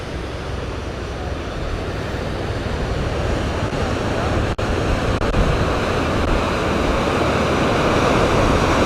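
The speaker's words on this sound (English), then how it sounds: "And the Gibbon River has its own waterfall." The Gibbon River waterfall in Yellowstone, right beside the highway, pours as a constant broadband rush of water, loud and close, with a few brief dips near the middle.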